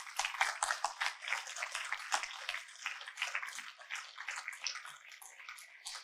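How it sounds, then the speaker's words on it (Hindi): A large seminar audience breaks into sustained, dense clapping that carries steadily from start to finish without any talk over it. "इसके लिए सबके लिए जोरदार तालियां हो जाए एक बार।"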